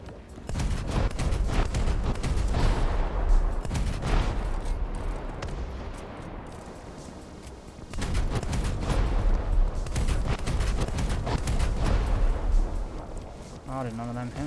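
Rapid autocannon fire from an OTOMATIC tank in the War Thunder video game, sustained heavy bursts for about six seconds, a brief lull, then another long stretch of loud, dense shooting.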